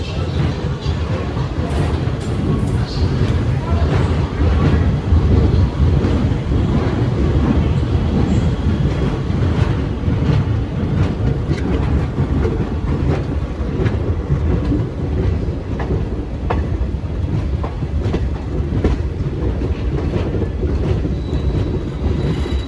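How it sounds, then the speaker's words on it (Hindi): The Shridham Express pulls out of Agra Cantt railway station with a loud, continuous rumble of wheels and carriages and a rapid clickety-clack of rail joints, heard throughout from close by. "श्रीधाम एक्सप्रेस का डिपार्चर दिखाते हैं।"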